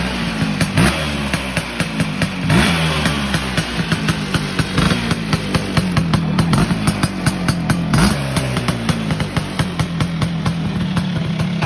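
Lambretta drag-racing scooter engine running loud and close with a rough, pulsing idle and a few rises in revs, steady throughout, with no talking.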